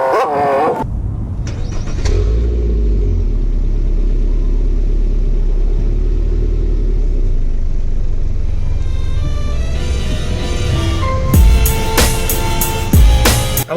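Honda Civic EF with a B18C5 engine driving along, a steady low engine rumble and road drone holding throughout, with some brighter clicks and rattles near the end.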